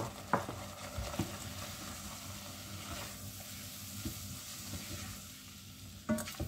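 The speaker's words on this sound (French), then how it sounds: "Je mélange." Flour being stirred into a roux in a pan for a seafood pasta béchamel, soft scraping strokes over a quiet sizzle, close and low in level, with a sharper clink near the end.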